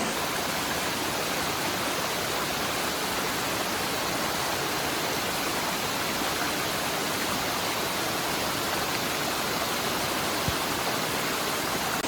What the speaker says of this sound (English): This is a gorgeous waterfall.